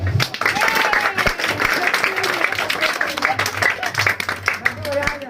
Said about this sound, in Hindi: अब सब ताली बजा दो।